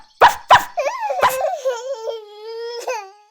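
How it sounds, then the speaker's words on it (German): A dog lets out two sharp barks, then a bark and whining, whimpering growl-like yelps, close and clear with no talk over them. "dann belle und knurre ich"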